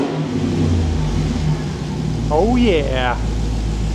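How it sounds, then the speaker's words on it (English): A built, supercharged 426 engine with a red eye intake revs up over a steady idle, the supercharger whine rising and falling through a short burst while a man briefly exclaims. "You can just hear that supercharger."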